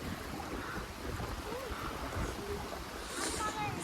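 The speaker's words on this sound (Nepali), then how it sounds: "सिरिरी बतास चल्यो" Wind blows steadily across a mountain trekking trail to Ghorepani Poon Hill in Nepal, a continuous broadband rush buffeting the microphone from start to finish.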